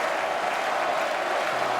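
A crowd at a WRC rally applauds, a dense, even patter of clapping held steady throughout, with no voices standing out.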